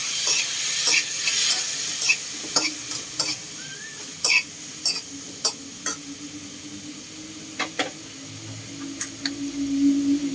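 Onions being stirred and sautéed in a pan for a mung bean stew with peanut butter, a steady low sizzle broken by frequent sharp scrapes and clacks of the spoon against the pan, close by with no talk.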